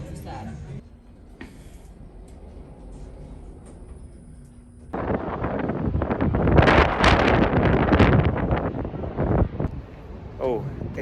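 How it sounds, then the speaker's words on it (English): Strong wind buffets the microphone on an open-air observation deck above New Orleans, a steady low rumble that swells loudly in the second half, with speech heard faintly through it. "Oh, it's very windy."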